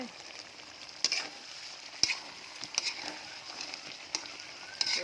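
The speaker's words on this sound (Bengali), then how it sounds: "আর এই যে ভাজতে দিয়েছি, ভাজা হচ্ছে, আস্তে আস্তে ভাজা হচ্ছে" Large koi fish rubbed with salt, turmeric and dried chili fry slowly in oil, a steady close sizzle punctuated by several sharp spatters and utensil taps spread through the stretch, without any talking.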